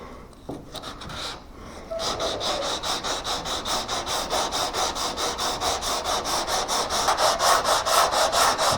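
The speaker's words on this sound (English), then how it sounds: "Some of this is just going to have to be hand sanded." A panel being sanded by hand in a rapid back-and-forth rhythm, starting after a short pause and continuing steadily to the end, close up and loud with no talking.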